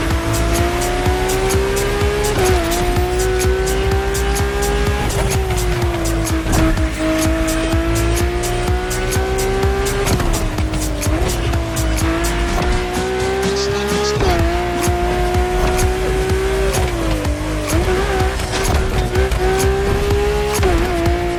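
A powerful drift car in the racing game The Crew Motorfest revs and howls continuously, tires squealing through long slides, loud and close throughout with engine pitch rising and dipping and no voices.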